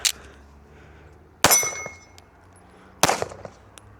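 Three sharp, loud gunshots from an HD C3.6 pistol ring out at even intervals of about a second and a half, each a hard metallic crack with a short ringing tail and quiet between shots.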